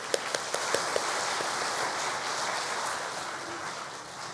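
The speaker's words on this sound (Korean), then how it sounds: "우리 박수 한번." A church congregation breaking into applause, opening with a few sharp separate claps that quickly merge into steady, moderately distant clapping which carries on to the end.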